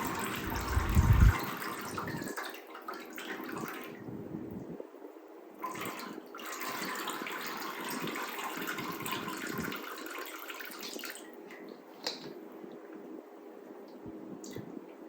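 Pickle brine drains from a stainless steel bowl while making crisp sweet pickles, a steady watery trickle and splash that runs continuously, with a louder gush of pouring near the start.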